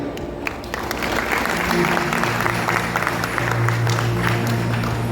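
A crowd at a live shahiri folk-song contest breaks into sustained applause, steady and fairly loud for several seconds, with a sustained musical tone and some voices underneath.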